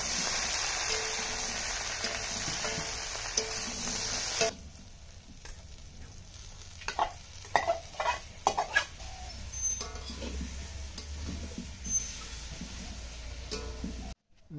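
Cauliflower pieces sizzle steadily in a hot pan for the first few seconds, then quieter frying carries on under scattered scraping and clattering from stirring at close range.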